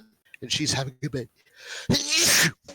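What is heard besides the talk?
sneeze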